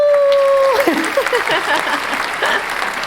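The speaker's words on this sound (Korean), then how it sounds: "박수!" Applause fills the room after a voice trails off at the start, a dense, fairly loud patter of clapping that continues steadily to the end.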